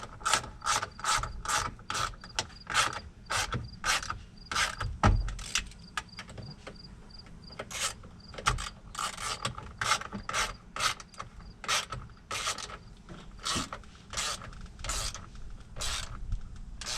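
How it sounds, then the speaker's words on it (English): Steady back-and-forth clicking of a hand ratchet tightening bolts on YITAMOTOR tow mirrors fitted to a 2005 Chevy Tahoe, close and fairly quiet, repeating in quick strokes with short pauses between runs. "I want to grab my ratchet, tighten everything back up."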